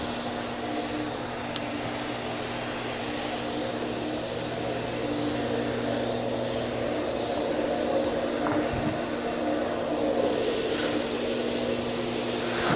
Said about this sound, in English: This is a pressure pot, so you're actually going to be able to spray.